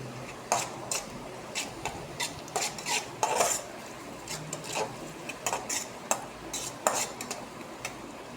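Onions and crushed garlic sautéing in a pan, heard as a soft sizzle beneath repeated scraping and clinking of a spoon or spatula stirring against the metal, with irregular strokes throughout.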